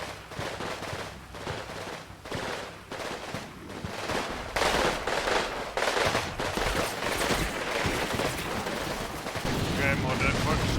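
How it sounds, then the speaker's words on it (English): Gunfire in the Combat Mission Fire and Rubble video game, set in Pomerania in 1945: dense bursts of rifle and machine-gun fire crackling in rapid volleys, growing louder and heavier partway through. "I hear more firing from over here."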